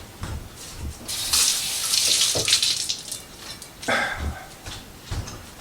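Tap water runs into a kitchen sink while peppers and scallions are rinsed under it, a steady splashing stream with uneven bursts as the vegetables move through the flow.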